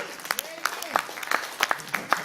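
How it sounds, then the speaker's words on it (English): Applause from an audience at a convention fan panel, moderate and scattered clapping running under a speaker's talk throughout. "You can clap."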